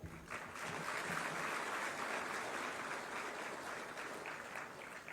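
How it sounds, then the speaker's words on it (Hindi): Audience applause at a ceremony handing out appointment letters to junior assistants and X-ray technicians, a dense, steady round of clapping that swells quickly and holds evenly at full strength without talk. "आप सब शुभकामनाएं हेतु तालियां बजाएं"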